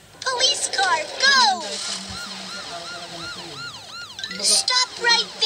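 A wailing police car siren in a children's vehicle app game, rising and falling in repeated sweeps, loud and close, with a voice and cartoon sounds at the start and end.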